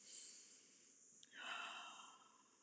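A person imitates a nose-in, mouth-out breathing pattern, a quiet sniffing inhale followed by a longer breathy exhale through the mouth, close and soft.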